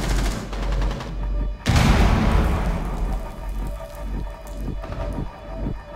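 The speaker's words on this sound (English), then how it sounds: "Throwing frag grenade." A frag grenade in Rainbow Six Siege, on the Bank map: a heavy, booming explosion bursts with a rumbling low roar, preceded by gunfire and followed by scattered debris and shots, loud and close.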